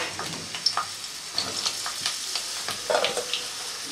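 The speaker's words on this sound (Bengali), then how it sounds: "প্রথমে আমি পটলগুলো ভেজে নেব।" Pieces of pointed gourd (potol) fry in hot oil in a kadai, giving a steady close sizzle with a few scraping stirs and small crackles throughout.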